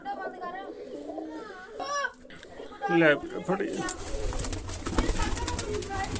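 Domestic flying pigeons coo softly in a loft among voices, with a child's and adults' speech mixed in. Scuffling and wing flutter follow, and the sound grows busier toward the end.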